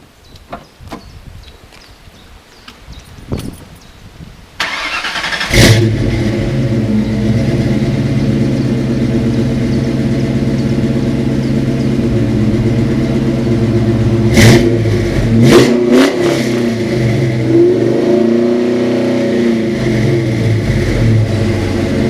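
A 1995 Ford SVT Mustang Cobra fires up after a few quiet clicks and settles into a loud, steady idle, with several short, restrained revs near the end.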